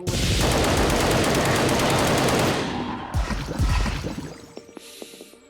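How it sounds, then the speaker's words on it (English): Mortar fire in the shooter Project Warlock II, a loud, continuous roar of rapid blasts that fades into scattered explosive thuds and a brief ringing tone at the end. "One shot, one kill with the mortar."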